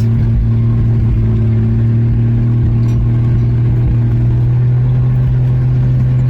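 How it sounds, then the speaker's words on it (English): A rusty 1965 Rambler American, low on transmission fluid, drones loud and steady from inside the car while driving, its engine hum constant with slight rumbling variation. "But I'm driving this rust bucket 1965 Rambler."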